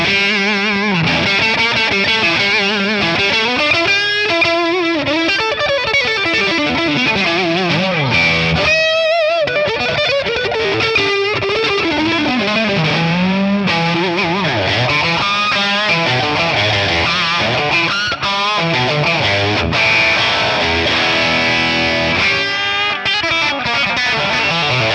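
A Stratocaster with single-coil pickups played through a 1963 Fender Brown Deluxe amp, a continuous gritty overdriven melody of sustained notes and bends, loud and alone with no talk.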